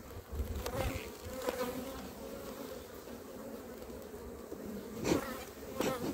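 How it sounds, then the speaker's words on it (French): Honeybees buzz steadily around an open beehive during a brood frame inspection, a dense, fairly quiet hum with a few nearer passes of individual bees, with no talking. "Les abeilles sont très tranquilles."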